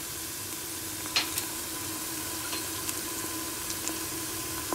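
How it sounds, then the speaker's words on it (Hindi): Ginger dropped into hot oil for a trotters curry sets off a steady, even sizzle. A few faint clicks of utensils sound close by, and no one speaks. "अब मैं इसमें अदरक डाल दूँ।"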